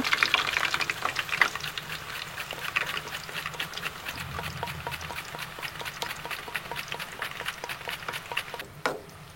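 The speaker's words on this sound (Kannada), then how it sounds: "ಎಣ್ಣೆ ಚೆನ್ನಾಗಿ ಕಾದಿದೆ. ನಾವು ಚಿಪ್ಸ್ ಬಿಡ್ತಾ ಬರುವ." Raw banana slices dropped into hot oil for crisp bakery-style chips, a dense steady sizzle and crackle of frying with faint stirring clicks, close and continuous throughout.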